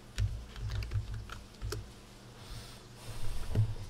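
Computer keyboard keys clatter in a quick, uneven burst of close, crisp taps during a Minecraft session, with no talking.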